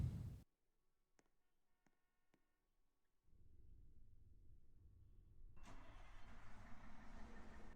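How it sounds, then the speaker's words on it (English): An FDNY fire truck engine in a video game starts up after a few soft clicks, a low rumble catching and settling into a steady idle, with a brighter mechanical hiss joining near the end; no one speaks. "So actual startup sound of the FDNY trucks."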